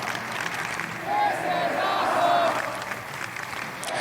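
A wrestling crowd at a triple threat Intercontinental title match applauds, a broad wash of clapping and cheering that swells in the middle, with whistles and shouts rising above it.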